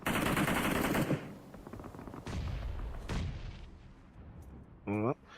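Automatic rifle fire from a PUBG Mobile battle bursts in a loud rapid spray, then several more shorter volleys and booms fade out, with a brief electronic tone near the end and a commentator talking over it.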